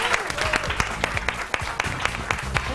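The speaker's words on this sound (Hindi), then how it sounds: "तालियों से वेलकम कीजिए नीलम मुनीर।" A studio audience on a televised iftar program claps to welcome a guest, brisk applause with a few sharper individual claps standing out, lasting about three seconds.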